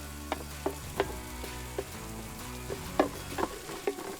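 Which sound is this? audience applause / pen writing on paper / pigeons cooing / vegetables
vegetables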